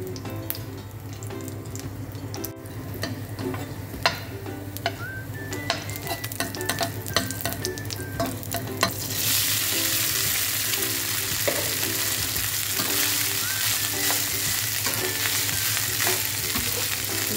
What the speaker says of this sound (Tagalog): Ngayon magsasangag naman ako ng kanin.